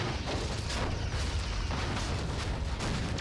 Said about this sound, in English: I'm pressing fire for phasers